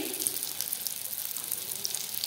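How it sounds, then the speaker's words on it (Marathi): Red long chilies roasting in a pan give a steady, close sizzle and crackle of hot oil that holds evenly throughout, with no voices. "आता एक साईडने आपले चांगले लाल भाजले मिरची"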